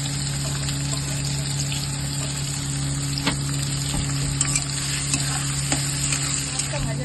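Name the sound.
chopped onions frying in oil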